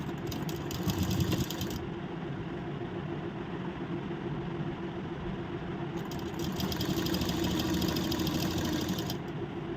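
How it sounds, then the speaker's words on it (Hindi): A sewing machine stitches a princess-cut blouse, running in a steady mechanical whir with a brief pause partway through before it resumes. "इसको इसके ऊपर रखेंगे और सिलाई लगाते जाएंगे।"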